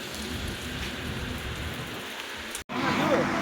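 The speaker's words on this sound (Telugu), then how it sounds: "వర్షం ఉంది, వర్షంలో ఉంది." Steady rain falls outdoors as a dense, continuous hiss, briefly cut out near the end and then resuming.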